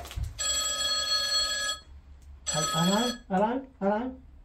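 A telephone bell rings in one long metallic burst nearby, then a person speaks in short phrases.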